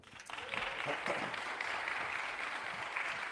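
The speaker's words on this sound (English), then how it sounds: "please clap your hands for Captain Marquez" Crowd clapping for a speaker at a community talk in Altadena rises quickly and settles into sustained, even applause, faint and distant in a reverberant space.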